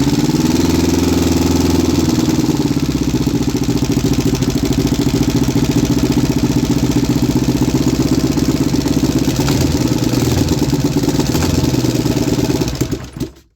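A homemade 3D-printed two-cylinder engine on its first start runs loud and close with a steady, throbbing idle for several seconds, then sputters and cuts out at the end.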